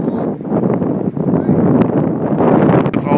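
Wind blowing outdoors during a frisbee game, gusting loudly and buffeting the microphone in a constant, rumbling rush.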